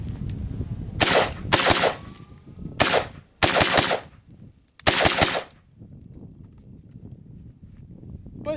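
Century Arms N-PAP AK-47 rifle fired outdoors at cantaloupes and pineapples, several loud close bursts of rapid shots separated by short pauses, then quieter background.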